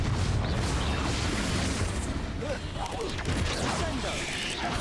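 In Hogwarts Legacy, Confringo blasting spells set off a dense, continuous wash of booming, crackling blasts and combat noise that stays loud from start to finish, with some speech mixed in.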